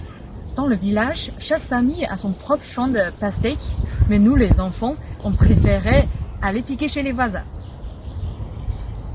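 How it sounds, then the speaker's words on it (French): Cicadas buzz in a high, steady, continuous drone on a hot summer day in a village setting, heard under someone speaking throughout. "C'est les cigales qui chantent."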